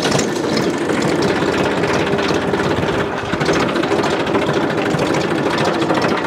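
A tractor engine runs close by on a farm in rural Bundelkhand, a loud, steady, unbroken mechanical drone with a rattling, chugging texture throughout.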